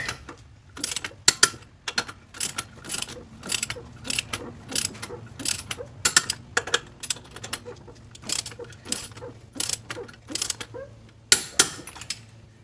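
A torque wrench ratcheting on the lug bolts of a John Deere 757 zero-turn mower wheel, with rapid repeated clicks in bursts over a low background hum, close up.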